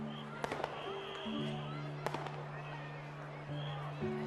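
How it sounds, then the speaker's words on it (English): Fireworks bursting in the sky, with a few sharp distant bangs and crackles over steady tonal background music, while a voice speaks over them. "The fireworks fill the sky, and there's a silvery light that falls like a shooting star."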